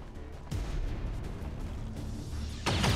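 Gunfire in the video game XCOM 2: War of the Chosen, two heavy booming shots about two seconds apart, each with a rumbling tail, over a low game soundscape.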